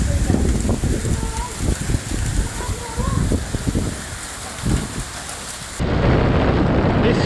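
A massive thunderstorm in Thailand with heavy rain pours steadily in a constant wash, broken by low rumbling bursts of thunder, then a louder, closer downpour roar near the end.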